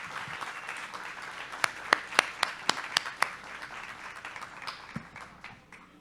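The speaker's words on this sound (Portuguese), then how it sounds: "Por favor, palmas para a Bianca." Audience applause at a Brazilian book fair talk, a spread of clapping from a crowd with a few sharp, distinct claps standing out near the middle, moderately loud and fading toward the end.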